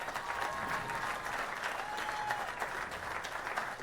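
An arena audience applauds the two finalists at a 2014 boys' state basketball finals, dense sustained clapping and crowd noise from many hands, even and continuous throughout.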